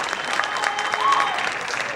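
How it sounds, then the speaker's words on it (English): Applause from a concert audience after a high school symphonic band's spring performance, steady clapping filling the hall with a faint tonal whistle or note rising briefly above it. "Give them all a huge round of applause"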